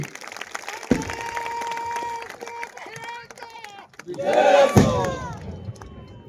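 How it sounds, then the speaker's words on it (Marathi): A crowd at a public gathering breaks into loud clapping and cheering that swells midway, with shouts and a voice rising over the noise. "जोरदार टाळी."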